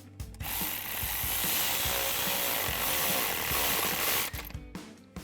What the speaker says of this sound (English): Tighten down our clamp with our 8mm socket.